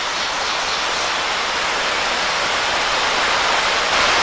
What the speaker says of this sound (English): Well, the water is flowing nicely.